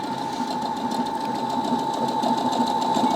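A Baby Lock Jubilant portable sewing machine runs a pre-programmed stitch at its fixed speed, giving a steady, close mechanical whir with a fast, even clatter of the needle throughout.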